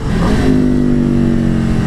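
Aprilia 1100 Factory motorcycle engine, an RSV4 or Tuono, revving loud and close with a clattery, rising mechanical roar that holds steady through the moment.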